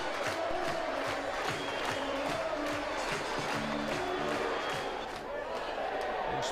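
A football crowd cheers loudly after an equalising goal against Brentford, a steady roar with rhythmic chanting swelling beneath it while a commentator talks over the noise.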